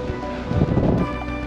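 Strong wind gusting through an abandoned desert ghost town with broken windows, a steady broadband roar that swells briefly in the middle, with no voices.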